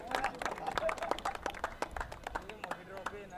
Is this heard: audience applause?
yes